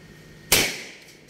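A gun is fired once at a shooting session, giving a sharp, loud, close crack that rings off in a fading tail, over faint background hiss.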